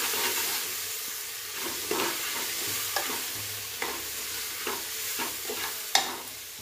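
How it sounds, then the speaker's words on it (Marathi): Spices including garam masala, black masala, turmeric and chopped coriander roasting in a pan for kadhi khichdi, a soft continuous sizzle broken by periodic spoon scrapes and taps, with one sharper knock near the end. "आता हे मसाले छान भाजून घेऊया।"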